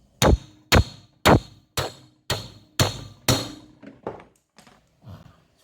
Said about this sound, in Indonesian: Oke, sekarang kita kasih kejutan pertama. Kita pakai palu aja.